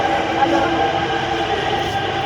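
A metro train runs along with a continuous loud rumble and rushing roar from the carriage, steady and close throughout.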